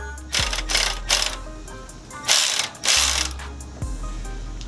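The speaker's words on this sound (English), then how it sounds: "Make sure your spring compressor is lined up here, and just go ahead and run it down." Deep socket ratchet running down a valve spring compressor on an F-Body engine during a valve spring swap, several close bursts of rapid metallic clicking separated by short pauses.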